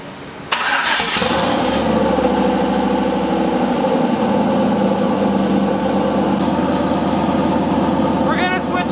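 A turbocharged LS V8 with Walbro fuel pumps cranks and fires up, then settles into a steady, loud, close idle that runs to the end.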